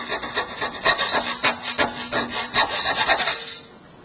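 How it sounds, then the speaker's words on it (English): A file scrapes along the underside of an airfoil blade in quick, rhythmic rasping strokes, close and crisp, about a dozen passes before stopping. "So a little bit of filing on the underside."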